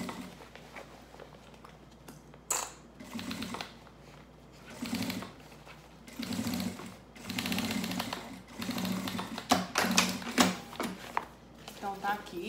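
A sewing machine runs a seam around a curve of fabric in several bursts of rapid mechanical clatter, stopping and starting with short pauses between runs.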